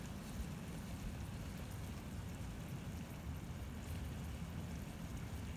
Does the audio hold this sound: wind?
yes